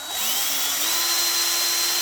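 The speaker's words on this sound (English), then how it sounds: "now I'm going to drill a hole" An electric drill bores a hole through part of a Norcold 1200 RV fridge during a hinge fix, a loud close motor whine that spins up quickly and holds a steady pitch.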